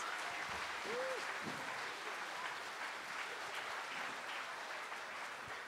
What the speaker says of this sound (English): let's give them a round of applause as they get their solo ensemble medals